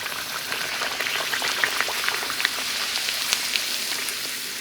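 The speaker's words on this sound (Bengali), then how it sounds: "কিছুটা লুচি বেলে নিয়েছি, এবার লোহার কড়াই আমি লুচিগুলো ভেজে নেব।" Rolled luchi deep-fry in oil in an iron wok, giving a loud, constant bubbling crackle with scattered sharp pops, close by and free of talk.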